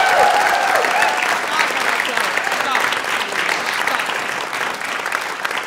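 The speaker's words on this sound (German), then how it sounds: "macht Applaus bei 3, 2, 1, bitte jetzt." A studio audience at a German comedy panel show claps loudly on cue to vote for a contestant, a dense, sustained wall of applause with some voices mixed in.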